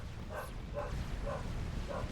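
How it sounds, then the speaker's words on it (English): A dog barks in the background during a Supreme Commander strategy game cast, with about four short, muffled barks spaced evenly across a low, steady room hum. "Apologies if you can hear my dog"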